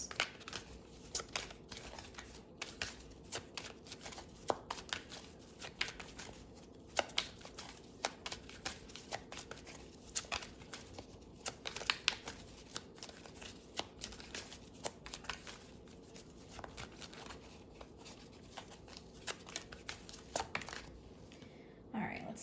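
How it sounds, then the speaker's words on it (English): Oracle cards from the Oracle of the Fairies deck are shuffled and pulled, soft, close riffling and flicking of card stock continuing for a long stretch, faint and quiet. "I'm going to pull some oracle cards now, one from Oracle of the Fairies."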